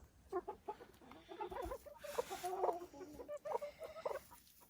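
Silkie hens cluck in a farm coop, a string of close, rhythmic clucks and drawn-out broody or egg-laying calls, moderately loud with no talk over them.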